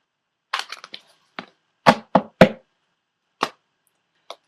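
Oracle cards are shuffled by hand, a series of short, crisp papery slaps and flicks, first in a quick cluster, then spaced out with gaps of silence, close and fairly quiet.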